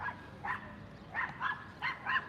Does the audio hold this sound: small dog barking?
yes